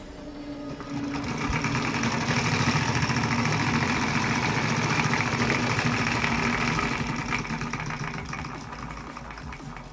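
A homemade solenoid engine drives a small car, giving a fast, continuous mechanical buzz that holds steady and loud for the whole stretch.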